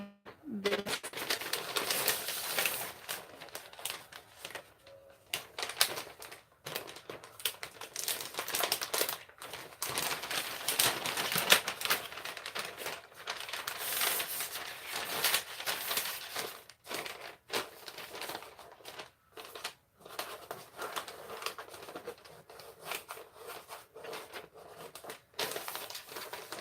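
Paper or liner being creased and folded to line a soap mold, with crisp crinkling, rustling and sharp fold snaps in irregular bursts close by, and a quiet voice talking over parts of it.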